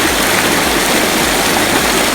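Water of the Lambunao River rushes steadily with dense broadband noise, loud and close, like a flowing stream or small cascade without pause.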